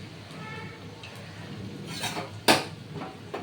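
A soybean and paneer kofta mixture with green chilli, salt and garam masala is mixed in a bowl, with quiet scraping and a few sharp clinks of utensil against dish, one louder clink standing out.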